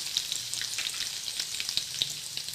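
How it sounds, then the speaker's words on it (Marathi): Finely chopped coriander sizzling in hot tempering oil for katachi aamti, a steady close crackling fry with dense tiny pops throughout and no voices. "फोडणीमध्ये मी बारीक चिरलेली कोथिंबीर घालते."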